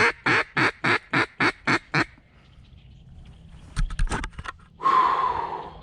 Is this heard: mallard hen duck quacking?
yes